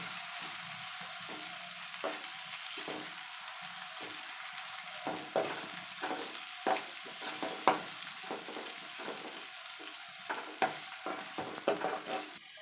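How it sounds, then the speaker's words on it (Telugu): Tomato pieces with turmeric soften in a pan, a quiet steady simmer under scattered soft scrapes and taps of a spoon stirring. "కొద్దిగా పసుపు టమాటాలు సాఫ్ట్గా అయ్యే వరకు ఉడికించుకోవాలి"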